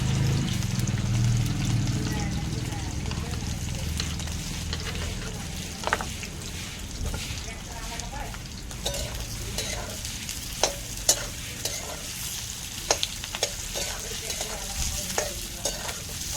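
Cut potatoes sizzle steadily in a pan over a wood-fired village stove for sabudana khichdi, with occasional spatula scrapes and clicks as they are stirred, a voice talking briefly at the start.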